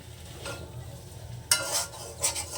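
Boiled potatoes with spices are stir-fried in a pan over a low flame, with a soft steady sizzle under close scraping stirs and two sharper scrapes near the end.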